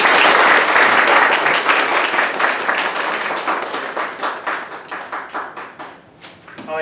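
Loud, dense applause from a school audience at an English speech contest, starting strong and gradually fading into a few scattered claps before dying away.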